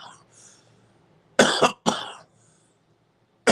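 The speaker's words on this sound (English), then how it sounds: "It's a dry cough," A few harsh, dry coughs in quick succession, close and loud, with a short pause before a final cough.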